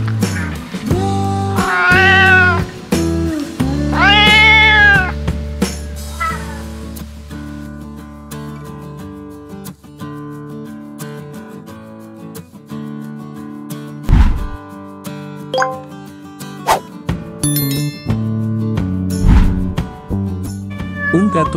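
A domestic cat meows loudly and up close, two long drawn-out wailing calls followed by a series of shorter, varied meows and chirps with brief pauses between them.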